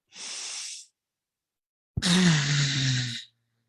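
A person breathing out forcefully through a closed fist to imitate a whale's spout, giving a soft hissing puff followed by a longer, louder rushing exhale with a low voiced groan, close to the microphone.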